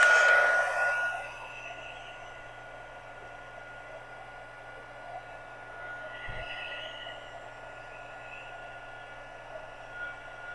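A handheld dryer blows on a paper craft pocket for a journal: a loud, close whirring roar for about the first second, then it cuts off, leaving a quiet room hum.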